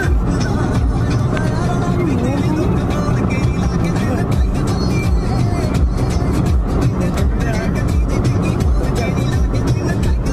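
A car driving along the road toward Puri, Odisha, its engine and road rumble steady and close throughout, with a continuous busy drone and occasional passing-traffic swells under faint talk.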